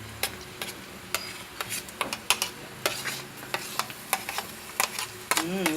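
Garlic and onions frying in a pan: a soft steady sizzle under repeated sharp clicks and scrapes of a utensil stirring against the pan, with a brief voice near the end.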